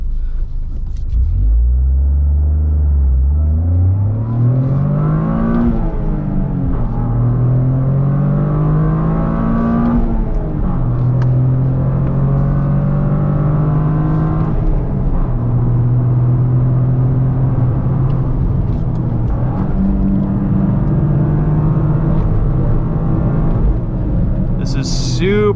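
A 2023 Toyota GR Corolla Core accelerates hard from the driver's seat, its engine rising in pitch through several gear changes with a deep rumbling tone, loud and close throughout.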